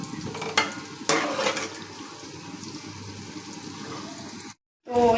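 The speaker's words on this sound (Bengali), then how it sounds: "তো এখানে আমার পটল ভাজা হয়ে গেছে," Pointed gourd (potol) frying in a pan, a steady sizzle broken by a few stirring scrapes, close, with a brief silent gap near the end.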